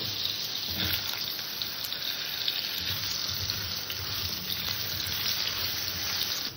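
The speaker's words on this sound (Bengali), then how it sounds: "প্রথমে আমি আলু কটাকে একটু ভেজে নেব।" Potatoes fry in fish-frying oil with a little added oil and radhuni seeds, making an even, steady crackling hiss that runs close and uninterrupted, with no speech over it.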